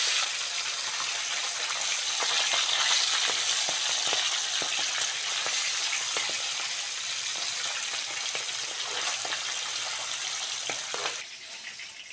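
Tilapia pieces rubbed with salt and turmeric frying in hot oil in a karahi, giving a steady, loud, close sizzle throughout with small crackles and pops, easing off slightly near the end.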